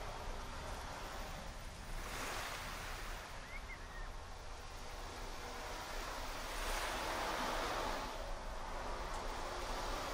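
Soft ocean waves wash and break in gentle swells, a faint continuous surf with a slightly louder surge near the end, no voices.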